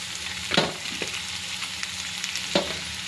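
Mint, coriander and curry leaves fry in a kadai for a vegetable pulao, a steady broadband sizzle with a few sharp crackling bursts and scrapes, close and fairly loud, no voices.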